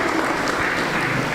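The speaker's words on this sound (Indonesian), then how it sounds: "Tepuk tangan buat kita semua" Steady applause from a church congregation during a Sunday service, even and moderately loud, lasting the whole short moment.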